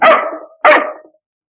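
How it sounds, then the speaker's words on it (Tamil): A dog gives two sharp, loud barks in quick succession, close by, each ending abruptly, with silence after. "ஏன் உன்னை பார்த்து நாய் குலைக்குது"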